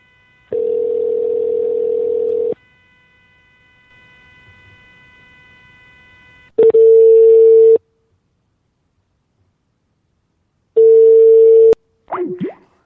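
Telephone line tones: a steady dial-type tone for about two seconds, then a fainter multi-pitched tone, followed by two separate loud ringing bursts spaced several seconds apart, with a brief voice fragment at the very end.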